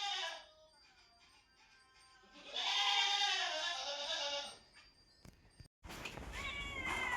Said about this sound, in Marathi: हे ही मांजर